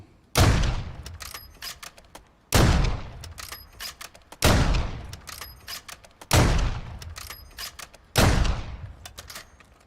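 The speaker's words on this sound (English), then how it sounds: "that is me firing without moving the right stick at all" A Victus XMR sniper rifle in Modern Warfare 3 fires five loud, sharp shots at roughly two-second intervals. Each blast has a long ringing tail, and bolt-cycling clicks sound between shots.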